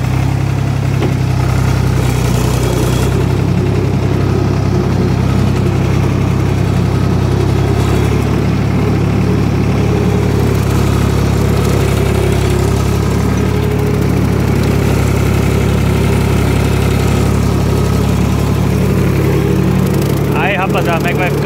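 Valmet 65 tractor engine revving while stuck in mud, a loud, steady, close diesel drone that holds nearly unchanged throughout, with someone talking over it.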